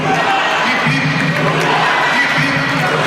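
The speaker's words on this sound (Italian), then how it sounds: "c'è ancora altre piccole fasi di presentazione con l'applauso, l'incoraggiamento dei pugili sardi verso quelli campani" Crowd cheering and applauding at a Sardinia versus Campania amateur boxing event in 2022, as Sardinian boxers encourage their Campanian opponents during introductions; a dense, steady roar of voices fills the hall continuously.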